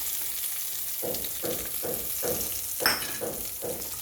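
Tempering for mint chutney, with garlic in the oil, sizzles steadily in a pan, broken by a regular series of louder hissing bursts as it is stirred, close and with no talking.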